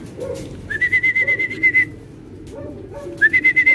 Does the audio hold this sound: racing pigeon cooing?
yes